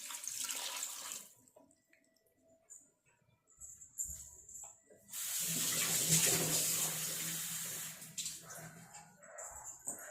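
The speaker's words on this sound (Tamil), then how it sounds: "1 டம்ளர் தண்ணி ஊற்றிக்கலாம்" Water poured from a tumbler into a cooking pot of goat head curry, a rushing splash in two bursts, the longer one sustained near the middle, with quieter clinks and gaps between.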